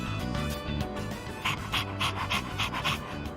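A dog pants in Persona 3 Reload, with quick, rhythmic breaths that grow more distinct partway through, set over steady game background music.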